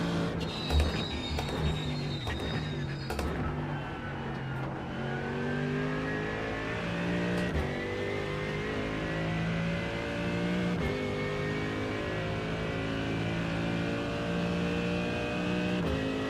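Porsche race car from iRacing at the Nürburgring, with a loud, steady engine drone that rises and falls through gear changes and revs, continuous and close for the whole stretch.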